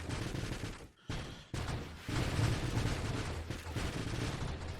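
Enemy ships firing in the space shooter Nova Drift, a dense, continuous barrage of rapid shots and blasts that fills the whole stretch, broken by a couple of brief dropouts, with no talking.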